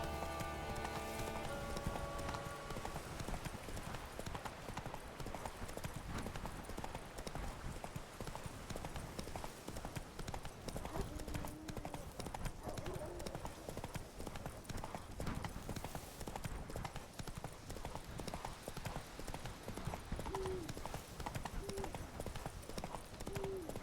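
Horse hooves clip-clop steadily in a riding video game, a continuous even trotting rhythm under game music, with a brief whinny and some talk over it.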